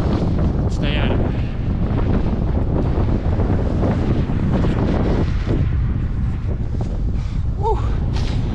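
Steady, heavy wind buffeting the microphone while riding a Giant TCR Advanced Pro road bike in winter, a continuous loud roar with gusty swells and no talking.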